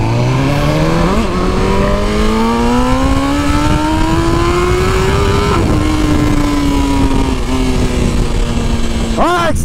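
A BMW S1000RR sport motorcycle engine revs hard and loud up close, its pitch climbing steadily through long pulls with brief dips between, ending in a sharp high rev burst; continuous and dominant throughout.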